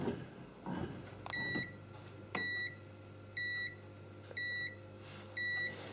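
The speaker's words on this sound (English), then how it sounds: "In 2 hours' time, it'll beep and it'll be ready to take out." A bread machine finishing its cycle gives a series of short electronic beeps, five evenly spaced tones over a low background hum.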